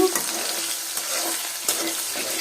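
Dried loitta fish and onions fry in hot oil, a dense, bright crackling sizzle close up with a few stirring scrapes, steady throughout the short stretch.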